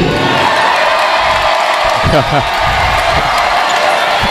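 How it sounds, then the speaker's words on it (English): Arena crowd cheering and whooping at a 2013 NJAC men's college basketball final, Rutgers-Newark at Ramapo, a loud sustained roar filling the gym while an announcer talks over it. "And a well-deserved cheer there."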